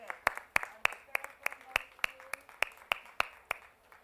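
Rhythmic unison clapping from a group in a classroom or workshop setting, evenly spaced sharp claps about three per second, with faint background chatter and room noise between beats.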